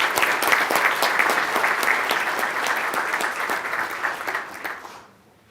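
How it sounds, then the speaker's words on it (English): An audience at a head-table event gives the staff a sustained round of applause, a dense even clapping that keeps going for about five seconds and then stops abruptly. "So I'd like to have a big round of applause for all the staff."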